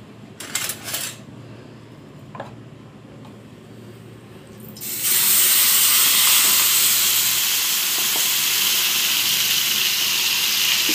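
Mutton tossed with oil hits a hot pan and bursts into a loud, steady sizzle that carries on to the end, following a few light clinks of utensils and a quiet lull.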